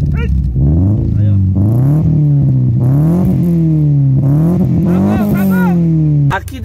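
A lowered Subaru with a large exhaust revs up and down repeatedly in long, loud, close surges, rising and falling in pitch before cutting off sharply.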